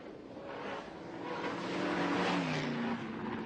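An original Ford Falcon XT GT being driven, its engine a steady, rising drone that swells toward the middle and holds, moderately close and alone without voices.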